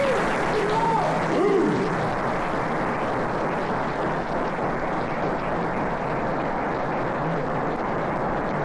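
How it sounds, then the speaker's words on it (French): Steady, dense applause from the audience at a gala dinner fills the room, a continuous wash of many hands clapping at an even level throughout, with a brief voice or murmur near the start. "Fait que ça mérite des applaudissements, des remerciements."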